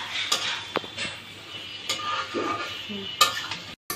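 Mutton liver and chopped potatoes being stirred and sautéed in a pan, with a spoon scraping and clinking against the metal in scattered strokes over a faint sizzle, close by and fairly quiet.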